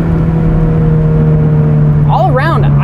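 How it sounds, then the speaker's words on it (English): A Scion FR-S/Subaru BRZ with a Cosworth header and power package drones at a steady engine note, then revs up and down in quick rises and falls near the end, loud and close. "Rev match downshifting sounds great."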